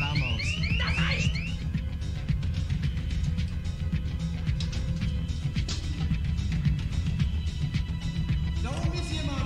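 A car alarm blares with a repeating warbling siren tone, loud and close for most of the span, as people shout over it in an agitated scene.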